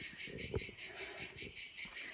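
Cicadas chirring in Italy, a steady rhythmic pulsing buzz that repeats every few tenths of a second, fairly loud and close, with faint low rustling beneath.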